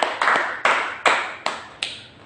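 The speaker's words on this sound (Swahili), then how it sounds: "Pigia Yesu makofi" A church congregation claps for Jesus in six sharp, evenly spaced bursts, each a quick crisp clap that decays fast before the next, close and loud with no talk over them.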